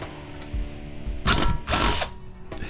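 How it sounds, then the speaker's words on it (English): A power drill whirs in two short bursts, drilling out screws on a large scrapped InSinkErator garbage disposal, close and loud, with quiet mechanical noise in between. "It just wants to drill them right out."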